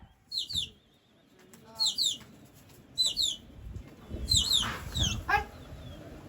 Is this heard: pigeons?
yes